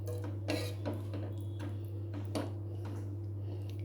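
A spoon scrapes and clinks against a pot while stirring a prawn and okra curry, a few scattered metallic taps and scrapes over a steady low hum.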